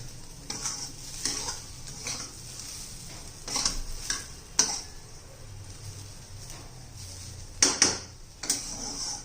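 Fresh coriander is stirred into an onion and tomato zunka in a pan, with quiet sizzling under a series of sharp, irregular spatula scrapes and taps against the pan.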